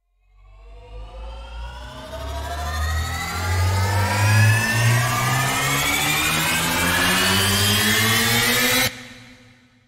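A synthetic riser swells steadily in pitch and loudness for about nine seconds, then cuts off abruptly into a brief reverberant tail.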